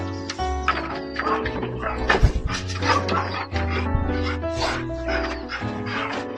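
A dog of good bloodline gives a run of close, high whines and yelps mixed with short barks, loud and fairly continuous.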